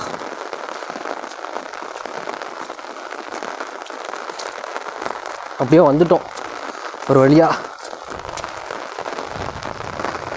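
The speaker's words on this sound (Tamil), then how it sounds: "மழையோட டைரெக்ஷன் பார்த்தீங்கன்னா வச்சுக்கோங்களேன், நார்த்து சைட்லேருந்து சவுத்தில் வந்து அடிக்குது டைரெக்ஷனு." Heavy rain from Cyclone Nivar pours in a steady, dense hiss, driven by wind from the north, while someone speaks briefly over it.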